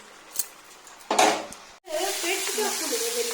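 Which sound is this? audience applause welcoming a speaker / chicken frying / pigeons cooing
chicken frying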